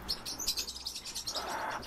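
A lesser green leafbird, a captive songbird and known mimic, sings a fast run of bright, high chirps and warbles, close and clear, with no other sounds.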